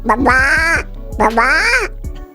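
A person imitates a duck's quack in two long, nasal, honking calls, loud and close, over a low steady hum.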